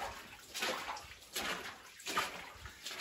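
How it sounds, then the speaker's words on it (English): Water flows steadily out of an abandoned mine in Nevada, making a continuous rushing, gurgling wash with gentle surges and no voices. "you can really see the water here flowing out of the mine."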